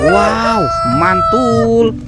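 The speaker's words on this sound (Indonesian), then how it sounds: "Ini ada ayam berkokok teman-teman." A rooster crows loudly and close by in a long drawn-out call, with a second shorter crow following; a voice exclaims briefly over the start.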